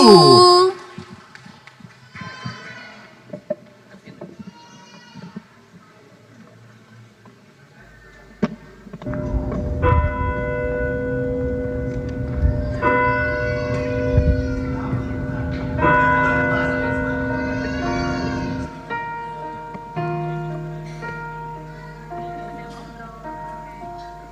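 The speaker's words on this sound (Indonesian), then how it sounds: "ketika mendengar lonceng gereja" Church bells ring in a slow melodic pattern with sustained tones, heard alongside voices and a musical backdrop at moderate volume during a Christmas service.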